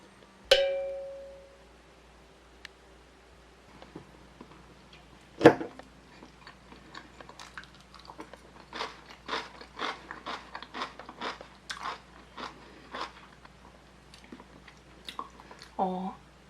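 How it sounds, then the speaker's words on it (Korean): Someone eating banana together with kimchi, with soft close-up chewing and crunchy bites repeating irregularly in a quiet room, plus a couple of sharp clicks and clinks near the start. "김치랑 바나나랑 지금 같이 먹고 있는데요."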